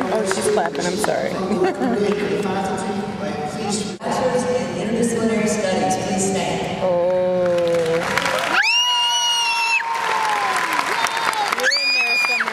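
A graduation crowd claps and cheers in a sustained wash of applause. Nearby people talk and laugh over it, and high whoops and shrieks rise above the noise toward the end.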